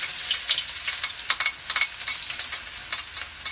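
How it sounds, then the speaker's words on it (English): Garlic and onions crackle and sizzle in hot cooking oil for a carbonara sauce, a close, bright, fluctuating frying hiss with small pops and no voices. "first the garlic and then the onions, to fry in the cooking oil."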